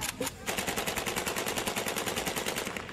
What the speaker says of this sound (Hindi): यूक्रेन के जवान रूस के सैनिकों पर ताबड़तोड़ फायरिंग करते नजर आए